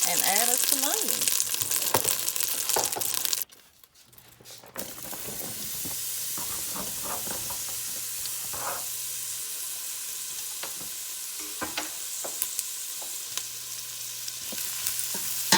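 Onions sautéing in melted butter in a pot, a loud hissing sizzle that drops sharply, then resumes as a steady frying hiss with scattered stirring clinks and brief faint talk.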